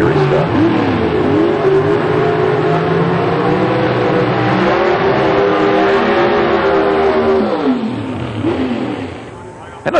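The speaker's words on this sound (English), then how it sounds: "He'll grab the line lock, do the burnout, and slither towards the starting line" A 1997 NHRA Pro Stock drag car does a burnout on a cold, damp racetrack, its engine roaring loud and sustained with rising revs for several seconds, then easing off as it rolls toward the starting line.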